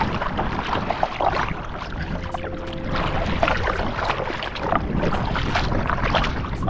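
A kayak is paddled along a coastline between beaches, with water splashing and sloshing irregularly around the hull under steady wind noise close to the microphone.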